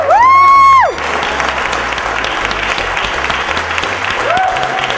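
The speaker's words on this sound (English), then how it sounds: "Can we give a round of applause to those awesome performers earlier?" Steady audience applause for performers at a Chicago garden lecture, loud and close, filling the room without a break after a brief whistle-like tone at the start.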